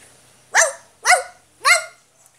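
A person imitating a dog gives three loud, close barks at an even pace, with silence between them, in a Mexican sitcom scene.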